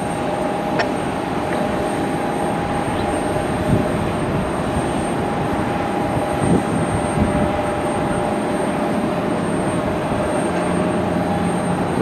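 Aircraft passing at Cleveland Hopkins Airport, a steady broad engine roar holding for the whole stretch with a constant tonal whine, fairly distant and unbroken, with no voices.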